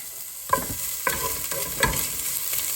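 Chicken pieces sauté with ginger in a hot pan for chicken chop suey, a loud continuous sizzle punctuated by three distinct scraping stirs, close up with no voices.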